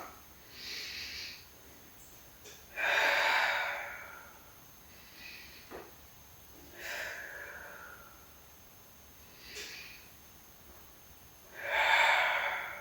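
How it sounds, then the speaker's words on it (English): Deep, slow breaths during a lower-back stabilization exercise, several long airy inhales and exhales spaced a few seconds apart, close and fairly soft, with no talking. "Great, big inhale and exhale."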